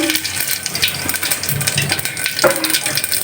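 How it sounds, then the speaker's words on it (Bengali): Cumin seeds crackle and sizzle steadily in hot white cooking oil, a close, continuous frying hiss with small pops, tempering for Gobindobhog rice and moong dal khichuri. "সাদা তেলে রান্না করছি জিরে ফোড়ন দিলাম"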